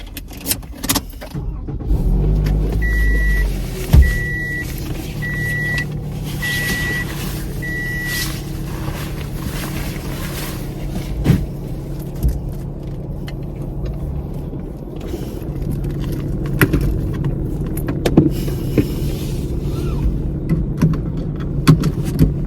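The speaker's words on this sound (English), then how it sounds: "I gotta wait for her to move her car" A car starts up and pulls away nearby at a home driveway on Halloween evening, with a steady engine rumble and a short row of repeated electronic beeps early on, then idling and shifting motor noise with occasional clunks.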